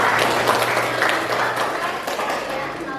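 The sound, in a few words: applause from students in class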